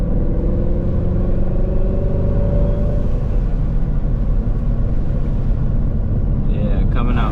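A twin turbo Ford Mustang pulls away as a loud, rising engine rumble close by, heard from inside with a whining pitch climbing early on, under some talk.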